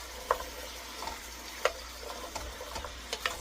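Apples stirred in a hot, just-bubbling pan for a sourdough apple maple pie: a soft continuous sizzle with scattered light clicks and scrapes of the spoon, close and fairly quiet.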